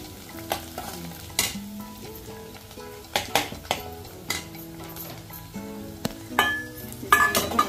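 Garlic, turmeric, salt and homemade red chili powder fry for a village-style double beans gravy. A continuous sizzle is broken by repeated scrapes and metallic clinks from a spoon against the pan.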